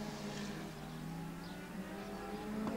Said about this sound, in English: so you've got all different size engines competing closely in a race